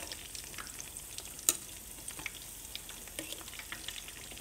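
Two vegetable pakoda fritters, battered like onion rings, frying in hot oil in a pan, a steady close sizzle with faint crackles and one brief sharp clink.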